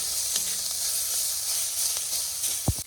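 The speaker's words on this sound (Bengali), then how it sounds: "এই পেঁয়াজ ভাজা হয়ে যাবে" Salted onions sizzle steadily in hot oil, a constant frying hiss with a few light scrapes and a brief clink near the end.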